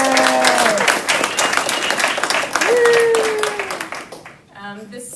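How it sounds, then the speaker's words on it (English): Audience applause at a university campus panel on Islamophobia and racialized harassment, a dense, steady wash of clapping that carries on under a speaking voice before thinning out near the end. "if we could just give a shout out and a clap to Russ"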